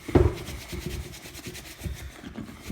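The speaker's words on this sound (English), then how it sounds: "I'm putting the grease on both hands and I'm working both the inside and the outside of the tongue" Hands work Obenauf's leather grease into the tongue of a handmade White's leather work boot, inside and out, making close, soft rhythmic rubbing and smearing strokes that repeat steadily.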